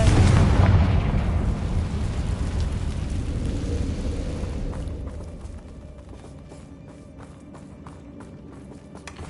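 Confringo fire spell explosion in Hogwarts Legacy: a loud, booming blast at the start rolls off into a long, fading rumble, followed by soft game ambience.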